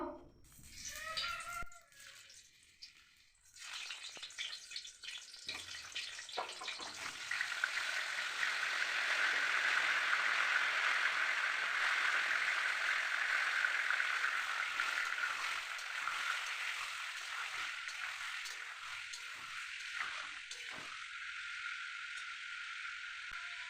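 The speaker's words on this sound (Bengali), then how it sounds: "আলুগুলো ভেজে নেব।" Potatoes frying in hot oil, with a few brief knocks and handling noises before a steady, close hiss of sizzling builds and holds until the end.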